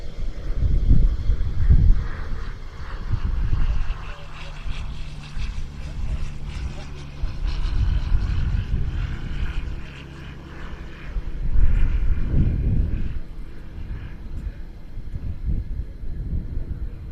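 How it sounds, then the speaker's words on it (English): F-15 fighter jets fly at an air show, a loud rumbling jet roar rising and falling in waves at a distance, with a commentator talking over it throughout. "we return to the noise and the spectacle of the F-15s"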